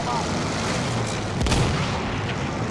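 Battlefield 1 gunfire in a dense in-game battle: a sharp shot or blast rises out of a constant roar of distant artillery and rumbling noise, with no clear voice on top.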